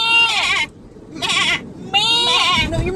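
A person imitating a goat, with three loud, close, wavering bleats separated by short pauses, and a brief rustle at the end.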